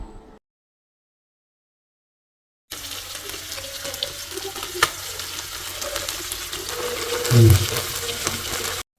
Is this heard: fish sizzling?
yes